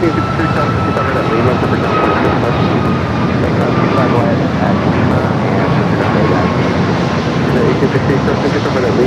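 Air Canada airliner flying past at LAX airport, a loud, steady jet engine roar that holds for the whole stretch, with faint voices underneath.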